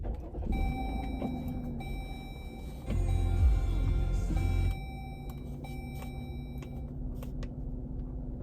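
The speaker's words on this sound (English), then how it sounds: "I'm going to turn the car on, but it's going to be loud and probably vibrate a little bit" A car idling, a low steady rumble that swells louder for a couple of seconds mid-clip before settling back, with faint electronic beeps and tones over the top and no talking.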